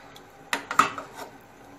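A spoon knocks and scrapes against a metal pot while stirring boiling chicken yakhni, a few quick clinks close by in a quiet kitchen.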